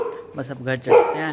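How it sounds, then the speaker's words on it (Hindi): Dogs in a street bark in short yapping bursts, close and loud, overlapping with someone talking. "कुत्ते भौंक रहे हैं गली में।"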